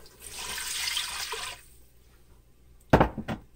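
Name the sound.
plain water being poured into a pot roast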